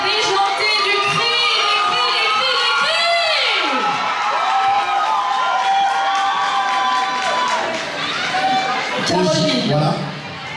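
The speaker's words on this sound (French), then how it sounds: "sous les cris de supporters déjantés" Supporters of a new Miss Cameroun Suisse winner cheer, whoop and shout at the 2016 beauty pageant final, a loud, dense crowd roar that runs unbroken with shrill individual cries and voices mixed in.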